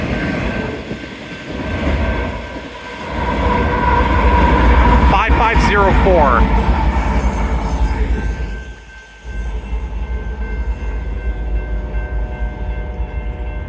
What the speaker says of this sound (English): There's a locomotive at the end of the train.